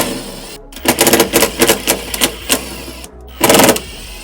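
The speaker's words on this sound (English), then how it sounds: "Allen wrench or socket in my case to take these screws out" A ratchet socket wrench backs screws out of American Adventure Labs drawer slides in a Jeep, giving several quick bursts of sharp, close clicking, a short pause, then one more loud burst.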